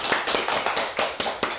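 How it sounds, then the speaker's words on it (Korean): A church congregation claps in unison to celebrate members' birthdays, a close, rhythmic series of sharp, even claps at a steady quick pace with no voices over them. "우리 함께 박수로 축하드리도록 하겠습니다"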